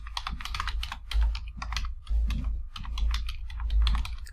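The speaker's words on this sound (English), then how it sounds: "So I'll simply type in the email there." Rapid clattering keystrokes on a computer keyboard as an email address is typed, close and distinct in quick irregular bursts with brief pauses.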